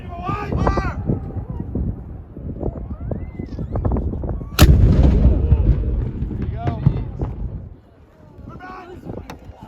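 A cannon on a Nova Scotia visit fires with one sudden loud boom that rumbles and fades over a few seconds, amid outdoor wind and people talking before and after.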